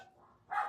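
A pet dog gives a single short bark at close range, indoors in a quiet room.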